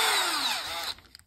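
A drill spinning a Phillips bit to chamfer a threaded hole in aluminum whines loudly for under a second, its pitch sliding, then cuts off, followed by a couple of faint clicks.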